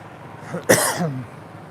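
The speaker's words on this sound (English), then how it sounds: "Sorry, I got a little bit of a cough, tickle." A single short cough, close and fairly sharp, against a quiet background at a morning market in Thailand.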